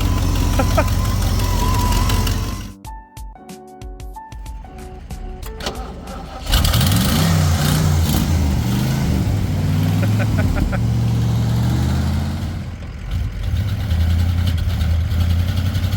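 An old Ford camper van engine, about 50 years old, cranks and catches, then settles into a steady low rumbling idle, with people talking and exclaiming over it.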